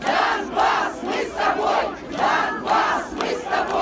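A rally crowd chants political slogans in loud, rhythmic waves of massed voices, rising and falling about every half second to a second with no pauses, close and dense throughout.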